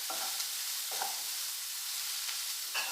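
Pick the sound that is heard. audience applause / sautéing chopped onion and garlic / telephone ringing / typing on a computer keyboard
sautéing chopped onion and garlic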